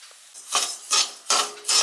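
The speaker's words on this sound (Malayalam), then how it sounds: "അതിന് വേണ്ടിയിട്ടുള്ള തേങ്ങയാണ് ഞാനത് വറുത്തുകൊണ്ടിരിക്കുന്നത്." Grated coconut being dry-roasted in a pan for a Kerala mushroom curry, scraped and stirred in about four distinct rasping strokes, each a short gritty swish against the metal, close and moderately quiet.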